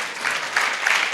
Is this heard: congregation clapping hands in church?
yes